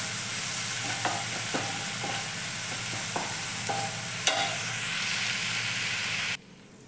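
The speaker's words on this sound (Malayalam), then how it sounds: "ഇനി നമ്മൾക്കിത് കരിയാതെ ഒന്ന് റോസ്റ്റ് ചെയ്തെടുക്കാം" Dried prawns dry-roasting in a pan for a coconut chutney, a steady soft sizzle with a spatula scraping and tapping every half second or so, ending abruptly.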